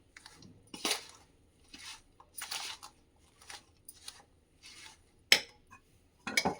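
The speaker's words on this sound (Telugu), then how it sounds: "చూడండి, ఇట్లా బాగా కలుపుకోవాలి" Telangana-style kudumulu batter being mixed in a bowl, with a series of short, soft scraping and squelching strokes at an uneven pace. The strokes are close by and separated by brief quiet gaps.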